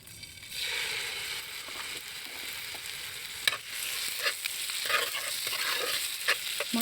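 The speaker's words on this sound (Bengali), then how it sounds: "এই ডিমের তেলের মধ্যেই আগে থেকে ম্যারিনেট করা মাংসটা দিয়ে দেবো" Marinated meat hitting hot oil left from frying eggs, a continuous close sizzle with stirring scrapes and clinks over it, and no talk.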